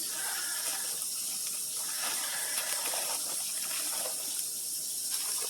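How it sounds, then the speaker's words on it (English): Kitchen tap water runs in a steady, even hiss-like stream for several seconds, close by and unbroken, with no talking over it. "Let the water run a moment."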